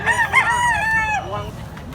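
A rooster crows nearby at a rural Philippine cockfighting-bird sale, one loud drawn-out call with a rising, then wavering, falling tail, over low background murmur.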